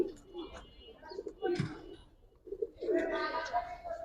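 Giribaz and Boil Pankhi pigeons from a good breeding line coo in soft, low bursts, fairly faint and close, mixed with a person speaking.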